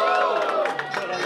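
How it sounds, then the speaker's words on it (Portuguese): Audience at a Brazilian freestyle rap battle cheering and shouting for a rapper's verses, a loud continuous crowd roar with scattered claps. "Barulho, muito barulho para as rimas do Léo Cambé"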